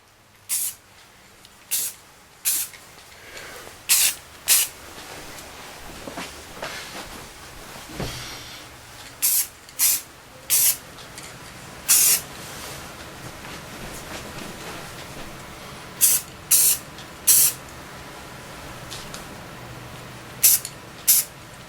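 Spray can laying a very light coat of paint on old Tootsietoys toy cars, a series of short separate hissing bursts, some single and some in quick pairs, spaced irregularly over a faint background.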